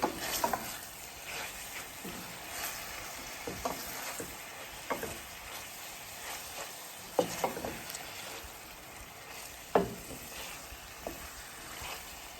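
Smoked herring frying in a pan with Scotch bonnet pepper stirred through, a continuous gentle sizzle punctuated by irregular spoon scrapes and clanks against the pan, close-up and without voices.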